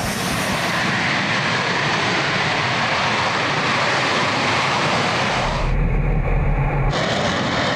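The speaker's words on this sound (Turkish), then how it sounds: "Normalde jetlerin kalkışını çekmek için geldik" A loud, sustained jet engine roar from military jets taking off at Incirlik air base fills the whole stretch, with a deep rumble building toward the end as the aircraft powers up.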